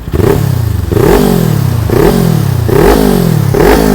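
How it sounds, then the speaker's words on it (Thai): A 2018 Kawasaki Ninja 400 motorcycle with an aftermarket Akrapovic exhaust revs hard four times in a row, each blip rising sharply then falling back, loud and close with no talking. "คันนี้มาพร้อมกับท่อแต่งนะครับจาก อาคาปวิกนะครับนี่ครับมาฟังเสียงกันเลยครับ"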